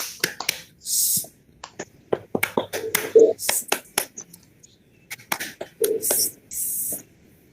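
A group hand-clapping routine called 'tepuk angin' at a scout webinar: sharp, separate claps in a rhythmic pattern, with short spoken or chanted bursts between them.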